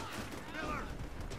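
Gunfire in the video game World at War, a short burst of shots blended into busy in-game sound, with a voice speaking over it.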